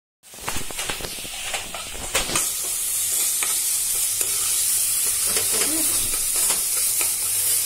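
Capsicum lababdar masala with tomatoes cooks in a pan, a steady close sizzle and hiss with repeated scraping stir strokes, and no voices.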